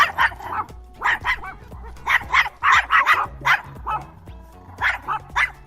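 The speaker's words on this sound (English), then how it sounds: "That's the sound of puppy." A puppy barks and yips in quick bursts, several sharp high calls grouped in pairs and threes with short pauses between, close and fairly loud, no voices.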